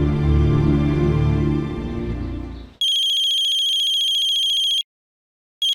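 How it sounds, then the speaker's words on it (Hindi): In a TV drama scene, a low tonal hum cuts off, then an electronic phone ringtone sounds as a sustained, pulsing high tone for about two seconds before a brief repeat begins. "अरे कब से फोन बज रहा है, उठाती क्यों नहीं?"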